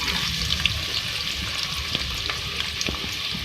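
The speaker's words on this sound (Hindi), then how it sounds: "सबसे पहले मैं ऑयल में प्याज डालूंगी।" Onions frying in hot oil in a home kitchen pan give a steady, close sizzle with faint scattered crackles and stirring scrapes throughout, and no voices.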